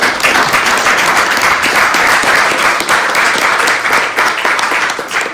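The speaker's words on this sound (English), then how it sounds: "So big applause." Audience applause at a book talk at an Italian cultural venue, steady dense clapping filling the room for several seconds without pause, with no speech over it.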